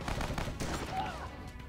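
A rapid burst of gunfire from Dead Ahead: Zombie Warfare crackles briefly, layered with game-like effects and a short electronic tone.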